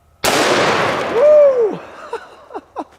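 A .500 Magnum revolver with an 8 3/8 inch barrel fires once into a cinder block, a single loud sharp blast with a long ringing decay, followed by a few short debris clatters.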